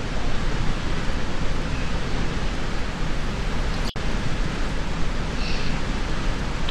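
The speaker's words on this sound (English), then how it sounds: "Look at the waterfall" A Minecraft waterfall gives off a dense, steady hiss of rushing water that stays loud and unbroken, apart from a split-second dropout midway.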